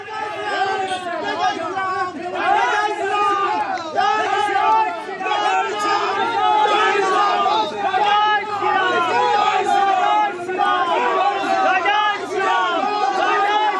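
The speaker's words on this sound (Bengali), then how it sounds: "মিছিল কতুলপুর বাজারে চৌরাস্তা মোড়ে পৌঁছতেই তুমুল স্লোগান যুদ্ধ।" A dense crowd at a political rally at a busy market crossroads chants slogans in a loud, continuous roar of many overlapping shouting voices, close and sustained with rhythmic surges.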